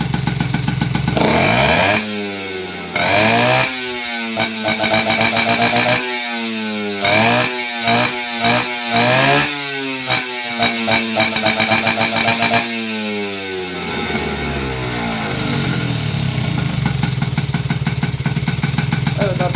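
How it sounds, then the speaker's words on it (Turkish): A Peugeot 105 moped engine revs up and down repeatedly, its whining pitch sweeping high and falling back between blips of throttle, close and loud. "Şimdi bu kardeşimizin motoruna biraz verelim. Ses dinleyelim arkadaşlar."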